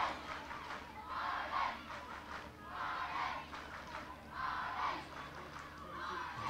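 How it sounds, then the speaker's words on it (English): A rugby crowd at a women's international between Ireland and England roars and cheers in waves from across the ground, distant and swelling repeatedly. "crowd on the far side getting into it, lending their support right in front of them."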